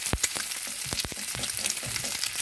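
Eggs frying in a layer of hot grease in a cast iron pan, a steady close sizzle broken by sharp crackling pops scattered throughout.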